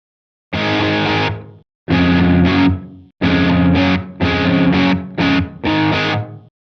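Heavily distorted electric guitar through a metal power amp model plays loud chugging chords in short bursts separated by brief gaps, thick and saturated with no talking.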